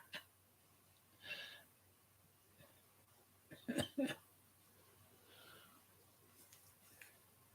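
A person coughs a few times, short throaty bursts with a tight cluster of two or three sharp coughs in the middle, faint and near against a quiet background.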